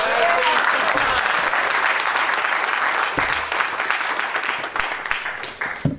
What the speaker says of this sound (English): wonderful, wonderful round of applause for Mr. Vince DuPont